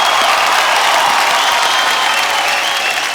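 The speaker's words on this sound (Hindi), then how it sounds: "एक बार आप सबके लिए जोरदार तालियां हो जाए।" Studio audience at a comedy talk show breaks into sustained, loud applause with some cheering, a dense steady wash of clapping filling the whole stretch without letup.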